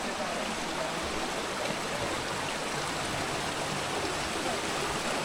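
A river flows through a rocky slot canyon on the Baby Bathtubs trail in Ouray, Colorado, making a steady, close rushing wash of water with no voices.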